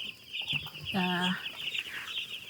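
Young poultry chickens in a brooder on a farm cluck and cheep close by, with one loud, clear cluck in the middle over a steady high chirping background.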